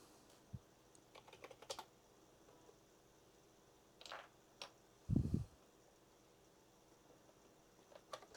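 Quiet, scattered key clicks from a computer keyboard as a cat steps across it, a few uneven taps and small bursts with one heavier thump midway, close and faint in a still room.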